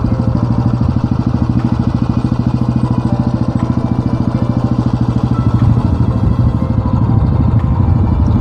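A Royal Enfield Bullet motorcycle being ridden on a bypass road near Mandi. Its loud, close single-cylinder engine thumps in a fast, even rhythm throughout.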